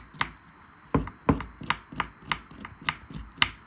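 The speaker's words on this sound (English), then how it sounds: "So the first thing we're gonna do, people, is peel the ginger" Fresh ginger being scraped with a spoon: about ten sharp, evenly spaced scraping strokes on a hard surface, close and distinct, with no talking.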